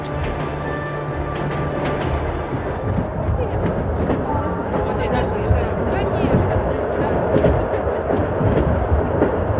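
The Trans-Siberian Railroad train rumbles along, a low, continuous rolling roar with rhythmic rattling and clanking of the carriages, loud and close, with talk mixed in.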